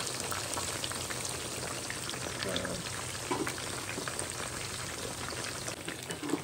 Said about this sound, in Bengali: এখানে দেখতে পাচ্ছেন আমার মাছটা কিন্তু খুব ভালো করে ভাজা হয়ে গেছে